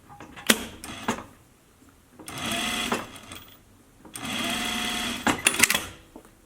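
A sewing machine stitches seams on a fabric face mask in two sustained whirring runs, close and fairly loud, separated by short clicks and handling noises with no talking.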